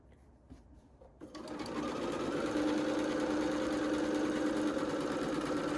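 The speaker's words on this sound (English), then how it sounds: "and I will sew it in" A sewing machine stitches quilt pieces for a pumpkin quilt, starting after a second of quiet and settling into a steady, close, continuous mechanical whir that runs to the end.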